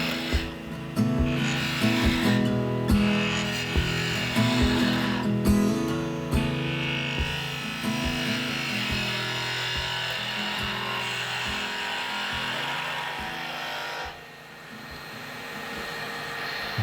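A spindle gouge cutting wood on a spinning lathe while an egg shape for a spinning top is turned, with a steady rasping hum, intermittent scraping bursts and sharp tool contacts throughout.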